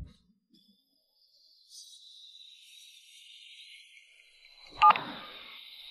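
A telephone number is dialed on a phone. A faint thin tone lingers through near-silence, then a sharp, louder keypad beep and click lands near the end.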